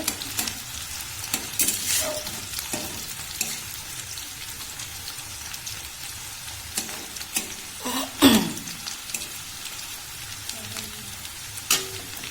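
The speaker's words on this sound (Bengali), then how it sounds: "পেঁয়াজটা ভাজা হচ্ছে।" Onions frying and sizzling in hot oil for a mutton-fat ghugni, a steady crackle with occasional stirring scrapes and louder spatters, close and unobscured.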